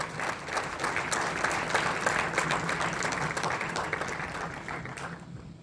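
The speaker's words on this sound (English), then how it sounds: "we should give a big hand of applause for the Padma Shri, the maker of the Indian cinema" Applause for Padma Shri film director Ramesh Sippy, a steady wash of many hands clapping together for several seconds, then tapering off quickly near the end.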